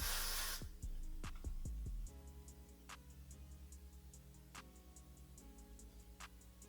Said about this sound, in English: I'm going to spray some Got2b spray on it